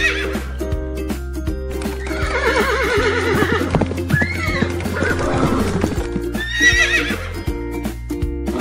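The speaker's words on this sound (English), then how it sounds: "Horse." A horse neighing loudly and close, with shrill whinnies and snorts rising over a steady low rumble, and faint clip-clop of hooves.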